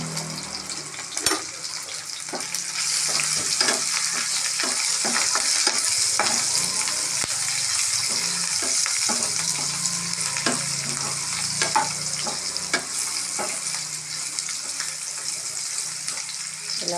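Green chilies, onions and curry leaves frying in a pan with turmeric, a steady bright sizzle with scattered spatula scrapes and pops, close and continuous, no voices.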